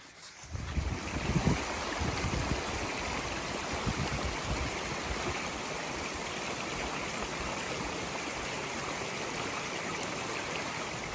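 A silty mountain stream on New Zealand's Te Araroa Trail rushes with steady, close broadband water noise that holds evenly throughout after a quieter first second.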